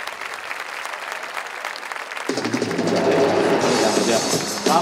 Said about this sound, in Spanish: lo recibamos con un aplauso enorme